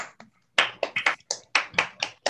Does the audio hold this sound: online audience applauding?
yes